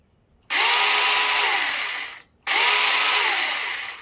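A small battery-powered OneNTech mini chainsaw runs in two steady bursts, a high buzzing whine that starts abruptly, holds, and cuts off, close and loud.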